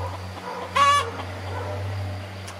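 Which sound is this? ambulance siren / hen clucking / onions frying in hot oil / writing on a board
hen clucking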